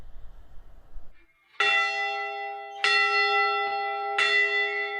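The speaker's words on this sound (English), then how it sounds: "Tonight, the bell rings 29 times to honor the lives lost on the Edmund Fitzgerald." A memorial bell tolls for the 29 lives lost on the Edmund Fitzgerald, three loud, clear strikes about every 1.3 seconds, each leaving a long ringing hum. A faint murmur of ambience comes just before.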